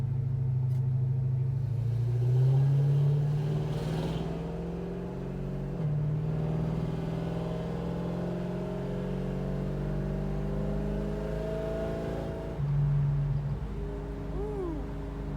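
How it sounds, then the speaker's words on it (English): A 1965 Chevrolet Nova cruises down the road, its engine a steady low rumble with gentle rises in pitch as it accelerates and shifts, heard from inside the car with no talking. "Take it for a spin. Show you how good this drives"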